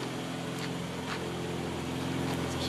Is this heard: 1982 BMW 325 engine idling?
yes